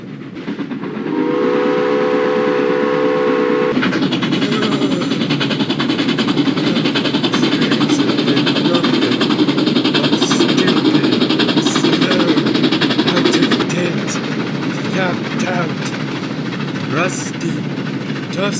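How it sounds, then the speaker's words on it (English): A steam locomotive sounds a long chime whistle at the start, then runs past in a loud, continuous roar of chuffing and rolling wheels that holds steady and eases off slightly near the end. "crusty steamer engine."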